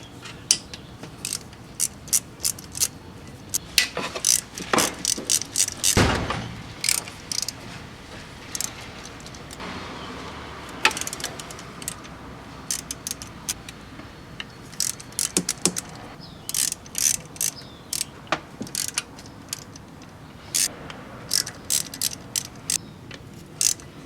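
A ratchet wrench loosens T30 Torx camshaft cap bolts on a VW/Audi engine, with bursts of rapid clicking and occasional louder cranks spread across a quiet workshop background.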